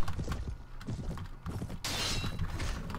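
Horse in the video game Mount & Blade with the Pendor mod, heard as rapid hoof clip-clops and thuds in a busy battle mix, with a bright hissing burst partway through.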